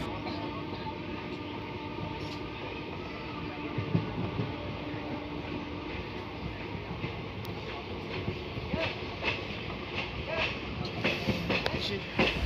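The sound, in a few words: train passing on a line beneath the train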